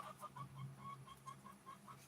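Chicken clucking in a rhythmic series of short, close, moderately faint calls, with a low steady hum underneath and no talking.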